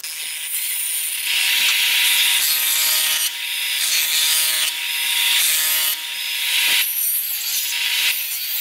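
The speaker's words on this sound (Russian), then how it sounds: "Одну сторону отпилил, теперь вторую." A hand saw cuts through wood for a cucumber bed in a greenhouse, loud close steady back-and-forth strokes in long continuous runs with a couple of brief pauses.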